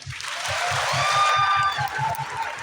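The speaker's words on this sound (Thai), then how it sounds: "ขอให้คุณปรบมือแล้วก็อยู่ข้างๆนักแสดงทุกๆคนตรงนี้ค่ะ" An audience claps for the cast of the series Fourever You in a steady wash of applause with cheering, while a rhythmic low beat of music pulses beneath and faint tonal sweeps drift above.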